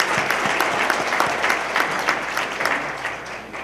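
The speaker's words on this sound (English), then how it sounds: "give yourselves a hand" A large audience at a State of the City luncheon claps loudly and steadily for a few seconds, a dense, sustained burst of applause filling the room.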